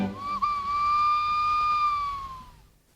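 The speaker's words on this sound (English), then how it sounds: "a lovely old whistle of the train there" A single long, steady whistle sounds, clear and tonal, holding for a couple of seconds before tapering off.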